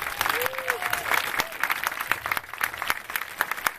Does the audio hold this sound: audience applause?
yes